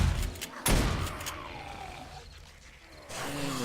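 A shotgun fires at zombies during horde night in 7 Days To Die Alpha 16, giving one loud, sharp blast with rumbling game noise and fainter growls around it.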